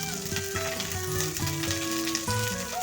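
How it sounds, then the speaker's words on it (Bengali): Small pieces of potato and eggplant fry in hot oil with a steady, close hiss of sizzling that carries on throughout, while music plays over it. "এখন এটা ভাজবো আমি তেলের মধ্যে।"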